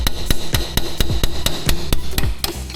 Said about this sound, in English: just find a good spot and then just hammer down